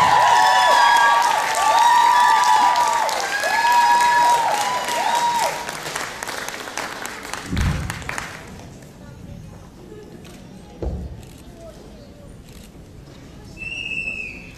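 A pageant awards crowd in Utah claps and cheers loudly for several seconds, with whoops rising above, then the applause thins and fades out.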